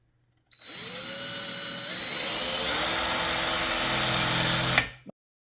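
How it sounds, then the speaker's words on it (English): A power drill bores a hole in the steel entry step of a 2018 Rockwood HW296 camper, a close, steady high-pitched whine that climbs slightly in pitch and runs for several seconds before stopping abruptly. "All right, let's get a hole started."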